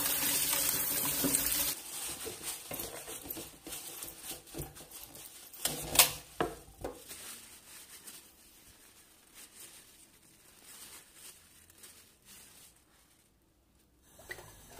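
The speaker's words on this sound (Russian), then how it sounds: "Хорошо промываем хвосты в проточной воде и подсушиваем бумажным полотенцем." Tap water runs while oxtails are rinsed in a kitchen sink. A soft hiss of flowing water mixes with wet rubbing and handling noises, quiet and close, and it fades near the end without any talking.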